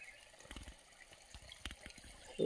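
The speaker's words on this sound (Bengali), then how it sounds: "একটু একটু জল পড়ছে" A small trickle of water falls from a nearly dried-up forest waterfall, giving faint, scattered drips and light splashes with no voices.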